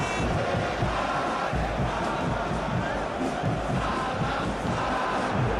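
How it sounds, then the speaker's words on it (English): Steady crowd roar and cheering from a football video game stadium, a dense continuous wash of many voices with swelling peaks, with no clear single voice standing out. "The crowd appreciates good football all round there."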